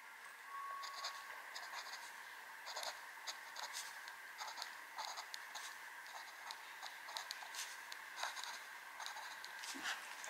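Fine-nib fountain pen writing in chai tea ink, soft scratchy strokes in short bursts and pauses, close and quiet with no talking.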